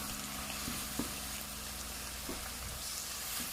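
Curry powder and turmeric frying in oil for a Jamaican ital vegetable stew, a soft steady sizzle with a few faint clinks from a stirring spoon, quiet and close.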